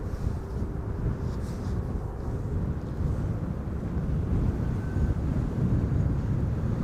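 Large Boeing 747 airliners taxi away simultaneously after pushback, heard as a steady, broad jet rumble with wind buffeting the microphone, continuous and fairly distant with no voices.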